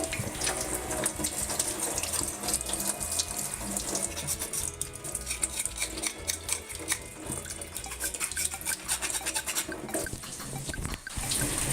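Water runs steadily from a tap while mussels are scraped clean under it, with scraping and clinking against a sink and a few louder splashes near the end.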